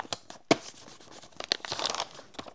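Gift paper crinkles, rustles and tears up close while small presents are wrapped for a homemade Advent calendar, with a sharp rip near the start and a longer crumpling stretch after.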